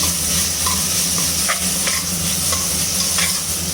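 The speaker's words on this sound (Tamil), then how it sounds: "பிரியாணி இப்போ தான் கொஞ்சம் பபிள்ஸ் வருது." Chicken biryani cooking in a pot makes a loud, steady sizzle and hiss broken by occasional soft pops and bubbles. The sound is close and unbroken, with no speech.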